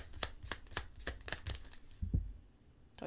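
Tarot cards being shuffled by hand, a run of quick crisp riffling snaps in steady rhythm, then a short thump and a final flick, close and fairly quiet.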